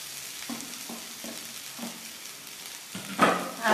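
Potatoes being mixed in a hot pan sizzle gently under a few soft, rhythmic scraping strokes of the stirring spoon, then a brighter burst of frying near the end.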